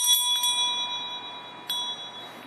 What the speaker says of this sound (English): Soul Bell. You give her a good ring.